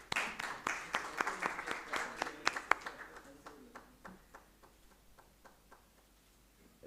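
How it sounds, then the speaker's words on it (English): Audience applause at a maritime event in India, a crowd clapping in a brisk burst that thins out to a few scattered claps and then fades away. "So a big round of applause."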